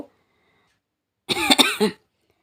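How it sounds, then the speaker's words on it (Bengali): A single short burst of coughing, close and fairly loud, after a moment of silence. "কাশি হচ্ছে মানে ঠান্ডা পড়েছে"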